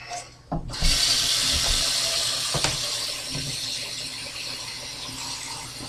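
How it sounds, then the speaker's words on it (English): Tap water gushes into a saucepan in a kitchen sink, starting abruptly and running as a steady, close rush for several seconds. "I may have filled it up a little too much."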